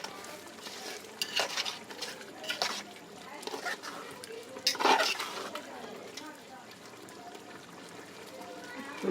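Aloo baingan curry of potato and eggplant is stirred in a pot, with scraping strokes and a soft sizzle rising and falling close by while a voice talks at times.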